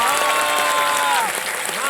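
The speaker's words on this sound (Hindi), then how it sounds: "एक बार फिर तालियों के साथ आपको स्वागत" Studio audience applause on the Kaun Banega Crorepati TV quiz show, a dense, steady burst of clapping at close range that holds loud throughout the short stretch.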